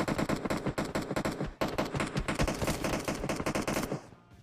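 A Tommy gun fires in a video game in long rapid automatic bursts, a dense, loud stream of shots that breaks briefly once, then carries on before cutting off near the end.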